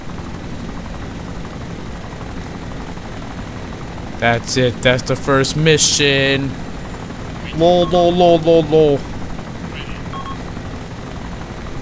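Helicopter engine in the military video game ARMA 2, a steady droning whir running under the whole stretch while someone talks over it in two short bursts.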